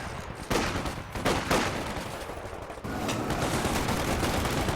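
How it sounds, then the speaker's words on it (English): An infantry support gun firing in a real-time strategy game, heard as sharp, loud reports among a continuous crackle of battlefield gunfire. "there's the infantry support gun"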